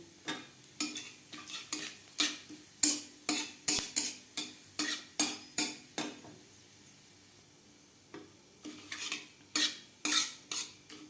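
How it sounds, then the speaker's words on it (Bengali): Spoon or spatula repeatedly scraping and stirring whole cumin, a bay leaf and chilli frying in oil on low flame, with rhythmic clinks against the pan, a short pause, then more stirring over a faint sizzle. "দশ পনেরো সেকেন্ড লঙ্কার সাথে জিরে ও তেজপাতা ভেজে নেওয়ার পর"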